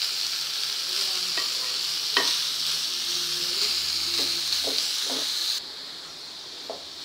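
Sliced cabbage frying in a pan gives a loud, constant sizzling hiss, with a few sharp stirring scrapes and clinks of the spatula. Near the end the hiss drops a little.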